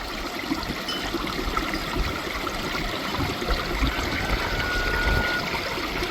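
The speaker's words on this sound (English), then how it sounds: "The waterfalls are starting to open up here" Homestead waterfall flows through melting snow in early spring, a steady broadband rush of water that stays close and continuous with no voices.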